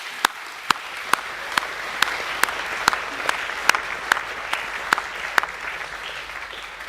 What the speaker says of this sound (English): Can we give them all a round of applause, please?